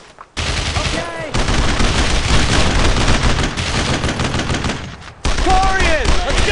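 Dense rifle and machine gun fire in the World War II shooter Brothers in Arms: Road to Hill 30, loud sustained bursts with brief gaps, under shouted soldier voices.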